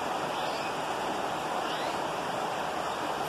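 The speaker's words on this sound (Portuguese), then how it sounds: "Dia de chuva, muita chuva." Heavy rain pours steadily over a canary aviary on a wet day, a dense and even hiss that fills the whole stretch without a break or any talk.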